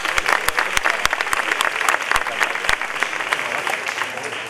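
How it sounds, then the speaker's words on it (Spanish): An audience applauds finalists at a flamenco singing contest final in Sanlúcar de Barrameda, with crisp, dense clapping close to the microphone that holds steady, then tapers slightly. "Un aplauso para ellos."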